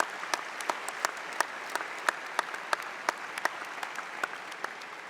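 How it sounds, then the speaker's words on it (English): Applause at a school assembly honoring a staff member, a steady wash of many hands with distinct individual claps popping out above it, moderately distant and fairly quiet throughout. "Let's give him a round of applause for all he did."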